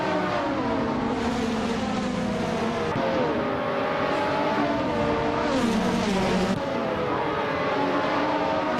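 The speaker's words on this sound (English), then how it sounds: "Bot Kulukachu and Bot Kudzumer Girl are nose to tail, fighting for the same spot" Race cars scream around a circuit in a video game, loud overlapping engine whines rising and dropping with gear shifts as the cars run nose to tail, continuous and close.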